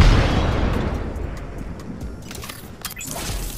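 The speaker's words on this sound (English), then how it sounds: "Frag grenade sent." A frag grenade detonates in a video game with a loud, broad boom that decays into a rumbling tail, followed by a few faint clicks.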